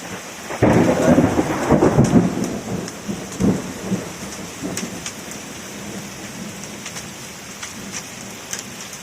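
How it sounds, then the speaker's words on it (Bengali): A loud rumble of thunder rolls in over steady heavy rain during a hailstorm with frequent lightning, then fades while the rain keeps falling. "বিদ্যুৎ চমকাইছে প্রচুর"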